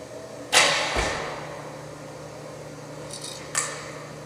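An arrow released from a bow during archery practice: a sharp snap of the string followed by a quick fading whoosh, then a second softer thud or release a few seconds later, all fairly close with no talk.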